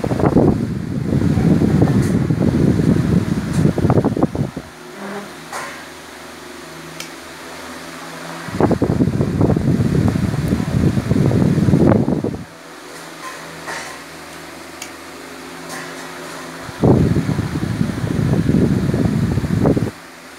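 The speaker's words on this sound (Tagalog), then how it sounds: "electric fan" A repaired electric fan with a new capacitor runs nearby, its steady whooshing hum cycling louder and softer in three long bursts with quieter gaps between them.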